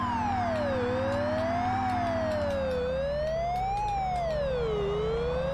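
Police car siren from an Amiga racing video game wails continuously in a slow up-and-down sweep over a steady low engine drone, loud and clear with no talking.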